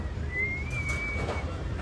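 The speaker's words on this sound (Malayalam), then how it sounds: "ഇവിടെ ഉണ്ട് കേട്ടോ കിളികളൊക്കെ ഇഷ്ടം പോലെ" Inside a bird shop, a single pigeon coos faintly in one brief, drawn-out call over a low, steady room hum.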